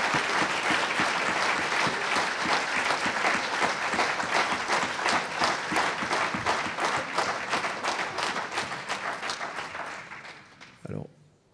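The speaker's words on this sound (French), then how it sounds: "je voudrais très simplement qu'on les applaudisse tous" Congress audience at the Mouvement Radical gathering breaks into sustained applause, loud and dense for about ten seconds before thinning out and fading, with a few last scattered claps at the end.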